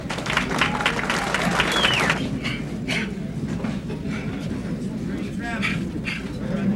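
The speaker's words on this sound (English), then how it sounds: "Muhammad Ali commanded a respectful silence and then applause as he entered the ring" A boxing-arena crowd breaks into applause as Muhammad Ali enters the ring, a dense burst of clapping over the first seconds before it fades under someone speaking.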